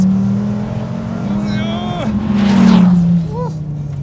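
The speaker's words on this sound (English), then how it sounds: "I've never driven a car with this much downforce before." A Dodge Viper ACR is driven hard through corners, its loud, steady engine drone rising and falling in pitch from inside the cabin, with a brief surge in the middle.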